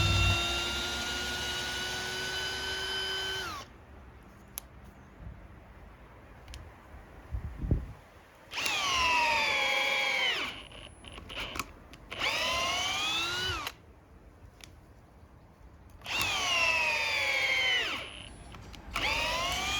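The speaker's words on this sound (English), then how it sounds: "So going back to speed 2 on the brushless Ozito drill driver and using the highest torque setting, it drove those bugle screws in with ease." A brushless Ozito drill driver on speed 2 at its highest torque setting drives bugle screws, whirring in several loud sustained bursts that rise and fall in pitch, with short quiet pauses between screws.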